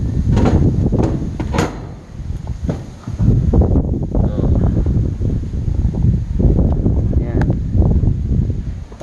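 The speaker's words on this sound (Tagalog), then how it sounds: "medyo malakas ang hangin ngayon." Gusty wind rumbles loudly against the microphone while a person talks over it, with a few knocks and rattles in between.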